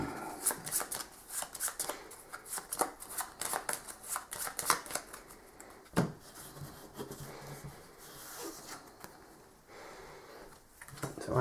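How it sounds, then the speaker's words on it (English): Repeated riffle-and-bridge shuffling of a deck of cards, crisp papery bursts in quick rhythm, close up with a short pause midway. "I'm going to shuffle up her deck"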